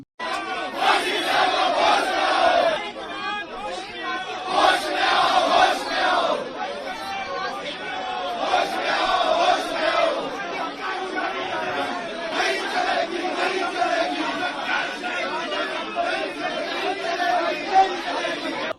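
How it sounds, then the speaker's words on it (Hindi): Crowd of supporters gathered outside the Cecil hotel in Himachal, chanting slogans loudly and continuously, with overlapping voices and shouts throughout. "भीड़ सीसल होटल के बाहर जुट गई और जमकर नारेबाजी भी की"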